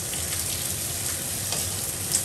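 Onion stir-frying in a small wok for stir-fried squid with black bean sauce, a loud continuous sizzle and crackle with faint stirring throughout, no talk.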